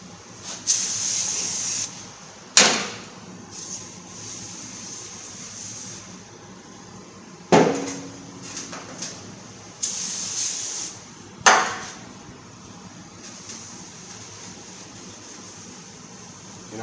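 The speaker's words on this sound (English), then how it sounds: "Spray this rotor down." A Chevy Traverse brake rotor is sprayed down in several bursts of loud hissing aerosol spray, separated by short gaps with sharp clanks and handling noises between them.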